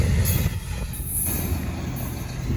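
A Norfolk Southern freight train rolls past close by with a loud, continuous rumble of railcars and occasional high wheel squeals.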